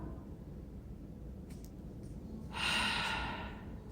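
A single deep breath during a yoga split-preparation stretch against a wall, a soft, airy exhale swelling for about a second in an otherwise quiet room, with no talking.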